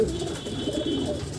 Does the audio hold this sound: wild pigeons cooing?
yes